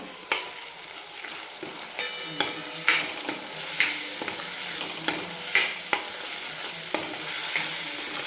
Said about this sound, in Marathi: पूर्ण तेल सुटेपर्यंत आपल्याला याला छान परतून घ्यायचं